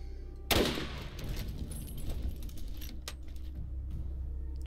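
Gunfire in Borderlands: a sharp, loud shot bursts out near the start, and a fainter shot cracks later, over a steady low background hum.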